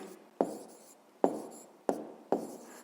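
Pen strokes writing out a numerical answer to a fifth-grade maths percentage problem, four sharp distinct taps or strokes spaced across a quiet background, close and clear.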